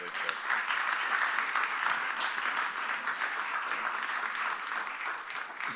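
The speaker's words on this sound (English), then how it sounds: "one more round of applause for these filmmakers" An audience at a film festival panel applauds the filmmakers, producing a steady, dense patter of clapping that holds evenly for several seconds with a faint crowd murmur underneath.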